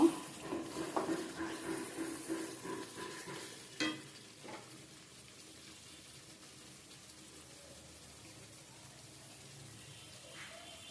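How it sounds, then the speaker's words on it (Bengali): Spiced masala being fried and stirred in mustard oil, a faint sizzle with a few stirring scrapes early on that fades to a quiet hiss. "আমি এখন সরিষার তেল দিয়ে আবার একটু কষিয়ে নিব"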